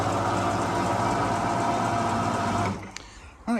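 A 2009 Ford Fiesta 1.4 TDCi diesel engine idles with a loud, steady clattering drone, then cuts off abruptly near the three-second mark, leaving faint clicks and a brief thump.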